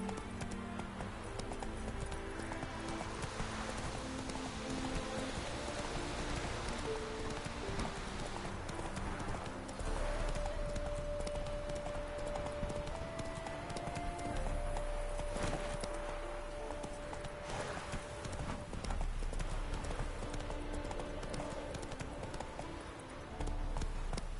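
Hoofbeats of a horse ridden in The Witcher 3: Wild Hunt, a steady clip-clop of hooves over a dense game soundtrack of music and ambience, continuous throughout with no talk.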